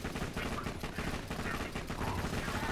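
Rapid, sustained submachine gun fire from the Legendary Gub in Borderlands 2, boosted by the Two Fang skill, a dense, unbroken stream of shots, loud and close throughout.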